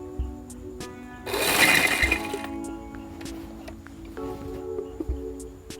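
A sewing machine runs close up for about a second while stitching small pleats on a shalwar, with quieter clicks and handling sounds before and after.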